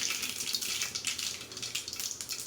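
Water runs from a kitchen tap as hands are washed, a steady close splashing hiss that rises and falls slightly, with no one speaking.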